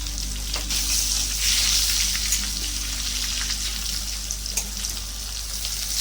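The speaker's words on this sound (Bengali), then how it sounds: "তেলটা গরম হয়ে গেছে, এবার সেদ্ধ আলুগুলো দিয়ে দেবো ভাজার জন্য" Boiled potatoes frying in hot oil in a pan make a steady, bright crackling sizzle with scattered pops, heard close over a constant low hum.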